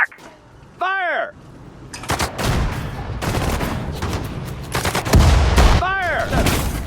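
Battle gunfire in a Sudden Strike 4 video game set at Guadalcanal: repeated sharp shots and bursts of automatic fire, loud and dense, with shouted voices mixed in.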